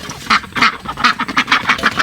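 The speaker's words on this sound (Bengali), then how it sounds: "আমার হাঁসগুলো বেল থেকে আয় দেখেন এদের খাবার যে কী সুন্দর খায়" Khaki Campbell ducks quack close by while they eat, a rapid run of loud, nasal quacks overlapping in quick succession with no talking.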